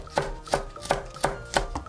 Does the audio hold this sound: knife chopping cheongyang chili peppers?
yes